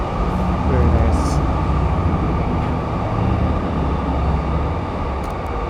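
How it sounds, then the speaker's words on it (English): A train rushes past in Akihabara, Tokyo, as a loud, steady rumble and roar that holds for several seconds, with faint higher squeals riding over the continuous noise. "Except for the rush of the trains once in a while."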